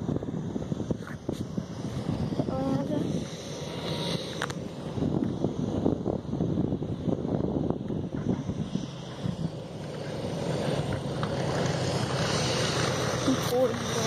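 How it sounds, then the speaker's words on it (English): P-40 propeller fighter aircraft landing, a continuous droning engine and propeller roar heard at a distance through gusty wind noise, with people talking over it. "And the P-40 right now is landing."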